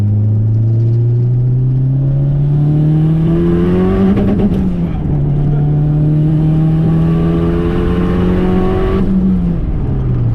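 Car running a straight E85 tune pulls hard in third gear, its engine note climbing steadily over several seconds, briefly dipping at a shift, then rising again, loud and close from inside the cabin.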